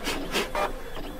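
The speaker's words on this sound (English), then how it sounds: "This printer is driving me crazy. It's so slow." A slow office printer grinding away in repeated mechanical passes, a raspy rubbing and whirring that swells and fades several times at close range with no voices.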